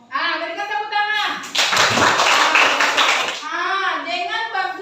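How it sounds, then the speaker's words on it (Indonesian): A classroom of children claps in unison for a classmate, a loud burst of hand claps in the middle, with a teacher's voice talking just before and after. "Berikan tepuk tangan."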